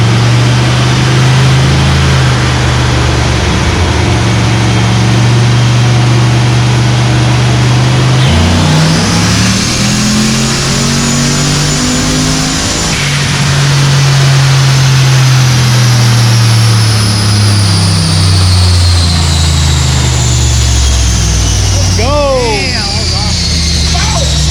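LS-swapped BMW 5 Series pulling hard on dyno rollers, a loud sustained engine roar that climbs in pitch through a full-throttle run, drops, then rises again, with brief voices near the end.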